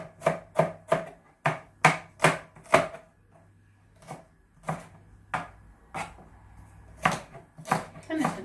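A knife chops peppers on a cutting board for a broccoli omelette, giving sharp, close, rhythmic knocks in quick runs with short pauses between them.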